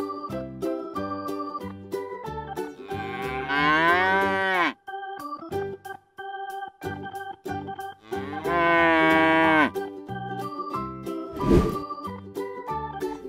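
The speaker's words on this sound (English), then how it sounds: "Cows moo as a way to communicate with other cows." Cows moo in long, loud, drawn-out calls, two close together then a third, over a bed of gentle music.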